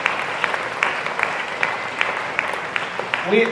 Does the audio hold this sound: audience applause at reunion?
yes